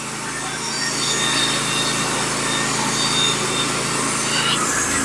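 A Norwood HD36v2 sawmill cuts through barn board with a steady, close, gritty blade-and-engine drone that holds for several seconds. It eases off briefly near the end, with no talking.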